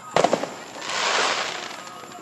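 Fireworks at an Independence Day celebration pop in a quick cluster of sharp bangs, followed by a crackling, hissing burst that swells and fades; the bursts sound fairly close.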